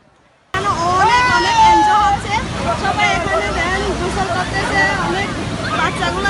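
Crowded beach with holidaymakers and surf at Cox's Bazar points such as Laboni and Sugandha, a loud babble of many voices mixed with washing waves and wind, starting after a brief near-silence.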